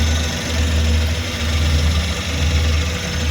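A Suzuki DA64W turbo engine idles with a steady, even low hum and a constant mechanical drone, close by and without any voices.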